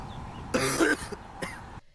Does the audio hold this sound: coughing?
yes